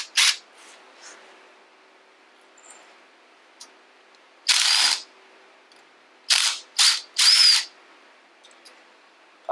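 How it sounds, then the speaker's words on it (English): A small battery-powered impact driver rattles out the metric damper rod bolt on a Showa front fork, giving several short, loud, close hammering bursts separated by quiet pauses and faint clicks. "Just gonna throw it in the impact here, a little battery powered impact driver."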